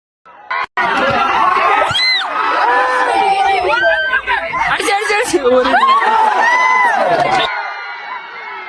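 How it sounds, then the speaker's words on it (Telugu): Junior girls shout and scream at a volleyball match, a loud, continuous crowd din of cheers, shrieks and laughter with overlapping chatter, close by and sustained for several seconds. "పక్కన జూనియర్స్ గర్ల్స్ మాత్రం ఫుల్ కేకలు అరుపులు మామూలుగా లేదు"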